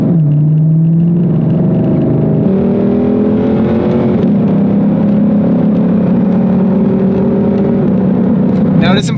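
A 2020 Ford Shelby GT500 Mustang drives with a deep, steady engine drone that rises in pitch through the gears, constant road and cabin noise, and a person talking over it throughout.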